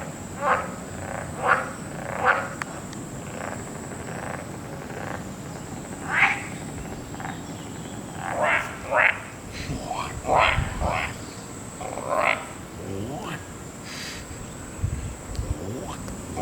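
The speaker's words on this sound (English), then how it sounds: "Seems like some frogs responded to our mating calls after all." Frogs croaking in a quiet, overgrown spot reclaimed by greenery, giving bursts of short rasping calls that come in irregular clusters, some near and some farther off, over a soft ambient hiss.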